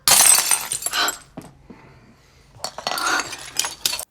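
A drinking glass is dropped and shatters in a movie scene, a bright crash followed by scattered tinkling fragments, a quiet pause, then more clinking of glass pieces being handled.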